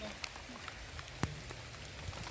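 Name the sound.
rain falling at Ilaveezhapoonchira hilltop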